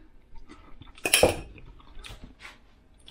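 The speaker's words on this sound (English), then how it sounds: "But give it a good stir, mash." Avocado guacamole is stirred and mashed in a bowl with a utensil: a few close scrapes and knocks, with one louder clatter near the middle, then quieter taps. No one speaks.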